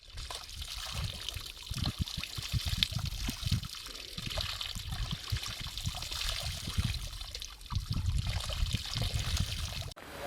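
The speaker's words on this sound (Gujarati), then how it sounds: "રાજલી માઇનોર કેનલમાં પાણી આવે છે" Water flows steadily along a minor irrigation canal, a continuous rushing trickle with gurgling surges, close by and moderately loud throughout.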